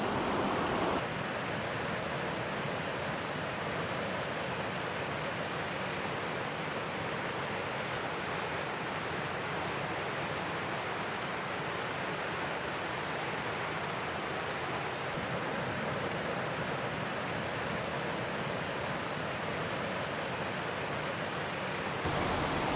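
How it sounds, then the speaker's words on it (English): Waterfall at Golitha Falls, a steady, dense rush of falling water that holds constant throughout, close and loud, with no voices. "I've found another lovely waterfall going right down here."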